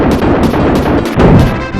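Plunger gun shots in the SNES game The Simpsons: Bart's Nightmare come as a rapid run of loud, punchy retro bursts firing almost continuously, with a few slight pauses between volleys.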